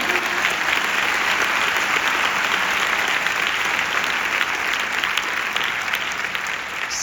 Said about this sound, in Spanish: le damos un aplauso al doctor Jimmy Goodman